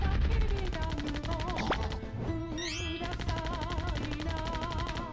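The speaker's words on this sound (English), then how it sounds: "I got a bigger gun." Rapid gunfire from a bigger gun in a zombie shooter played on the Wii, a fast continuous rattle of shots with game effects, steady and fairly quiet throughout.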